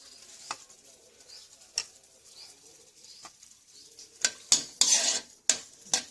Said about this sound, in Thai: เอาพริกแห้งมาทอด